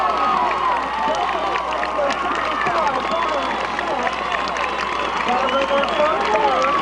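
Dense crowd noise at a 1994 high school football game between LHS and Olentangy, a steady wash of cheering and shouting from a stadium crowd on its feet, continuous and fairly loud throughout.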